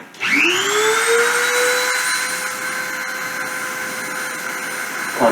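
A spindle spins up to 30,000 RPM during a deposition run, rising as a loud whine that climbs in pitch over the first two seconds, then holds as a steady high tonal drone with a faint change at the close.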